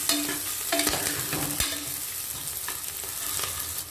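Cashew nuts fry in a hot pan with a steady close sizzle. Stirring scrapes and light metallic taps repeat over it, and nobody speaks.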